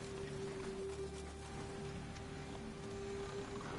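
Soft, steady rain patters continuously at low volume, a diffuse hiss with a faint constant tone running underneath.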